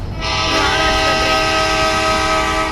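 In an Indian bike video game, a train rumbles past close and loud while its horn blares in one sustained blast.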